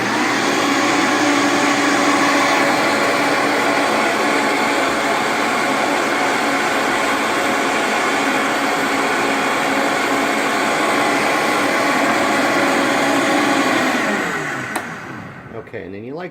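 A Vitamix blender whirs loudly and steadily as it blends coffee, a close high motor drone that holds for about fourteen seconds, then winds down and stops.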